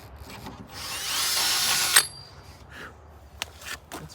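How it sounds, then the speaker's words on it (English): A power drill with a badly worn clutch whines at high speed for about a second, then cuts out with a sharp click, followed by faint knocks and handling noises. "the clutch on this drill is pretty well shot."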